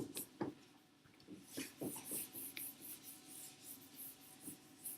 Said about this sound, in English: I'm going to erase this now.